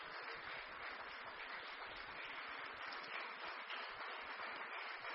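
A room full of people gives warm, sustained applause for linguists and translators at an International Mother Language Day celebration, a dense, even clapping that continues steadily throughout.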